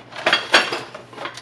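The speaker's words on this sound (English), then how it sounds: "So I'm breaking a little bit off the edge." Dry, unboiled lasagna noodles are snapped at the edges by hand, giving a few close, sharp cracks and brittle clatter in quick succession, with no talking.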